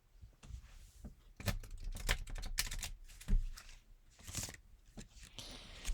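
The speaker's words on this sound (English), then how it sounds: "now I will do a standard shuffle" A deck of playing cards is given a standard shuffle, with quiet rapid riffling clicks and flutters in irregular bursts, close but faint, without speech.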